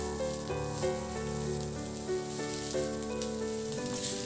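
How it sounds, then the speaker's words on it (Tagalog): Onions sauté in a pan with garlic, a bright steady sizzle with soft crackles and brief stirring scrapes, close and alone. "Ilagay ko na rin yung sibuyas, ihalo lang hanggang sa mag-translucent."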